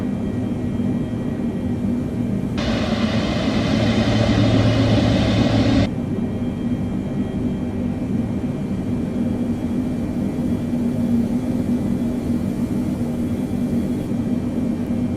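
Airliner engines in the Microsoft Flight Simulator game spool up as power is added for taxi, a steady whirring roar with a louder, brighter surge for several seconds before settling back to a constant drone.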